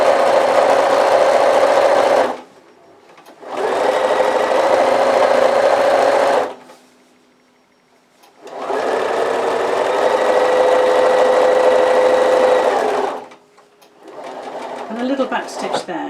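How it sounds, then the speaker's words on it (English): A sewing machine stitching fabric for a chunky bag runs in three sustained, loud bursts of steady motor whir, separated by short pauses, with faint handling noises at the end. "swivel your fabric round, and then start machining"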